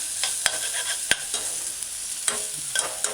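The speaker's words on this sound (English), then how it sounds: "Add your mashed garlic and saute. Stir in and saute." Mashed garlic sautéing in a pan for a vegan tomato stew, a steady close sizzle broken by sharp scraping taps of a utensil stirring against the pan, with no voices.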